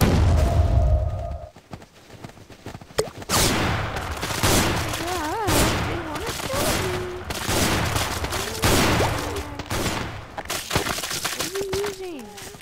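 Shotgun blasts in a zombie video game go off as repeated loud, close booms at irregular intervals, with people talking excitedly over and between the shots.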